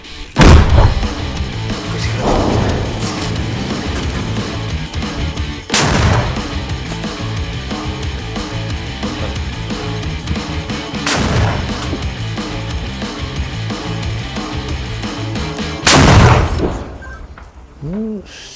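Three or four heavy, booming blasts from a 120 mm mortar spaced several seconds apart over a constant rumbling background, loud and close, with reverberant tails after each shot.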